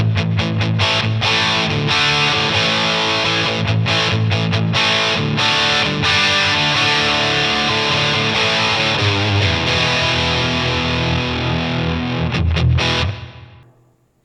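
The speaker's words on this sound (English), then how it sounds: "So you get a little bit of that reverb in there, kind of a springy reverb in there." Heavily distorted electric guitar through a REVV Generator 120 MKIII amp rings out in continuous chords with a springy reverb tail, loud and sustained, then cut off and decay at the end.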